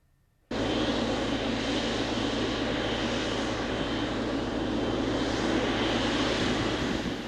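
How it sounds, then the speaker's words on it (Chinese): China Airlines airliner landing at Taoyuan airport, a sudden loud, steady jet-engine roar that starts after a brief quiet moment and holds strong and close to the end. "华航班机慢慢降落伫桃园机场"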